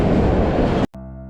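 Kalka–Shimla toy train running with a dense, loud rumble of wheels on track, then a sharp cut to a steadier droning hum.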